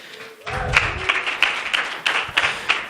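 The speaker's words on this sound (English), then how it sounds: "So if you can give a quick round of applause." An audience at a tech meetup breaks into applause, a modest spread of claps from a small crowd with a few sharp individual claps standing out, fairly close.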